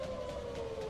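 An air raid siren warning of a missile attack wails as a steady, sustained tone, heard continuously throughout with no voices over it.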